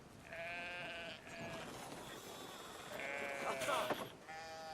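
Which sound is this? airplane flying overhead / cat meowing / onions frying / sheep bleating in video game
sheep bleating in video game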